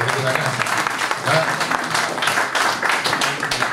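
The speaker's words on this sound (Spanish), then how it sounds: "un aplauso primero que todo para Hugo González" An audience applauds a Chilean payador at a folk poetry event in San Carlos, sustained dense clapping close and loud throughout, with a little voice faintly mixed in.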